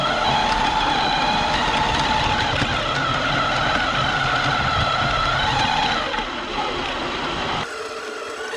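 A 1/10 scale Ripsaw RC luxury super tank drives outdoors in minus 15 °C cold, its motor and tracks producing a steady, loud, broadband whirring rumble that continues throughout before dropping slightly near the end.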